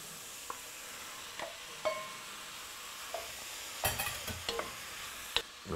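Tomatoes going into a sizzling pan of pork for a watercress stew, giving a quiet steady frying hiss with scattered clicks and scrapes of stirring.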